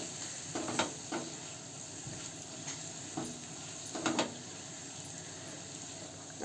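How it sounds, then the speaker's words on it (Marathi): Paneer and spices stir-frying in a hot pan, a soft continuous sizzle broken by scraping, tapping stirs every second or so, close and quiet with no talking. "आता मसाले सगळे आपण भाजीमध्ये परतून घेऊ चांगले."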